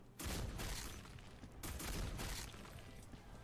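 Sustained video-game gunfire from an online shooter, rounds fired at a wall toward a hidden opponent, a dense loud crackling fusillade in two long bursts with a brief gap near the middle.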